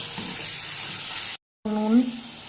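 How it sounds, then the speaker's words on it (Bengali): Homemade chhana sizzles steadily in hot spiced oil in a pan, a close continuous frying hiss, briefly cut out, then resuming with a short voice-like tone near the end. "ছানাটাকে দিয়ে ভালো করে মশলার মধ্যে মিশিয়ে নেব।"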